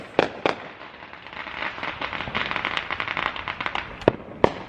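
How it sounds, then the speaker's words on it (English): Fourth of July fireworks exploding nearby, a dense run of crackling pops and bursts with a few sharp loud bangs standing out, steady crackle between them. "Can y'all hear all these fireworks?"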